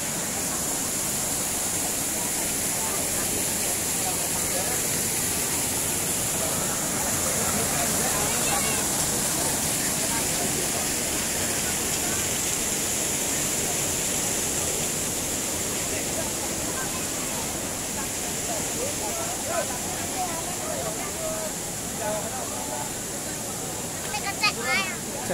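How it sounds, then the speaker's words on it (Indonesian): Constant rushing roar of the Jumog waterfall fills the scene, with people faintly talking beneath the steady wash of water. "Luar biasa air terjun Bumok."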